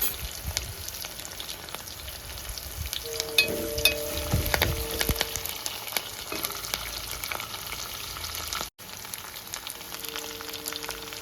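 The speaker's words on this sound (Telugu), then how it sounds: "ఈ బ్యాడిగి మిరపకాయలు అనమాట, ఇటు ఉంటాయి. ఇవి మంట ఎక్కువ ఉండవు, తినేటప్పుడు తాలింపులో బాగా ఫ్రై అవుతాయి కదా" Dried Byadgi chillies sputter in a hot oil tempering, a steady close crackle with scattered pops and a few scraping stirs, and faint tonal hums from the kitchen underneath.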